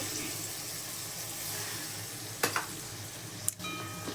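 Fried chicken pieces sizzle in a pan as sour yogurt goes in, a soft steady frying hiss broken by two sharp utensil clicks near the end.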